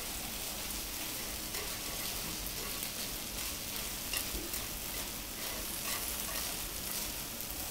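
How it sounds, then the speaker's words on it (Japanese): Salt ponzu yakisoba frying in a hot pan as the vinegar cooks off, giving a steady, dense sizzle that carries on unbroken throughout with no talk over it. "お酢をこう熱で軽くこう飛ばして"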